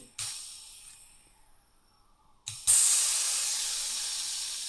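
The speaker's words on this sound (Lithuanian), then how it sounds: "Mes girdim šnipščią, bet nieko baisaus neatsitinka" Pressurised air hisses out of a 3D printing setup in two bursts: a brief fading spurt, then a louder, steady rush that tapers slowly.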